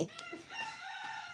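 Chickens cluck and a rooster crows, short bird calls followed by a sustained crow, fairly faint and not very close.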